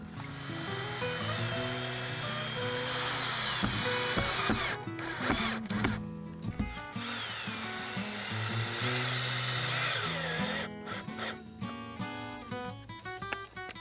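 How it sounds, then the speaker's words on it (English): Power drill driving screws through a lattice panel into a wooden garden arbor post, a loud whirring drill run in bursts with pauses, close and alone without talk. "First, clamping the panel, then screwing it in place."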